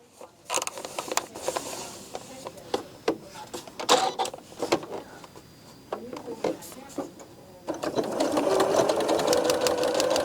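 A sewing machine stitches pieced quilt fabric in short irregular bursts at first, then settles into a steady continuous run near the end, close and moderately loud with small clicks and handling noises between the bursts.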